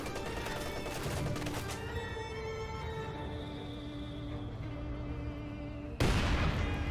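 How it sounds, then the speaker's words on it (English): Heavy 120mm mortar rounds landing in Company of Heroes 2, a rumbling burst of impacts followed by ringing decay, then a sudden loud boom near the end amid battlefield noise. "Good 120mm mortar hits there."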